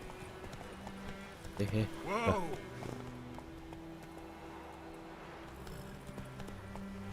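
Horse hooves clip-clop in the video game The Witcher 3, a short burst of close hoofbeats partway in under steady game background, while someone talks and laughs.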